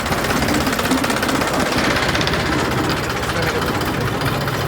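A steady, rumbling tractor engine drones on at a constant level with a rough, knocking vibration, fairly close and continuous throughout.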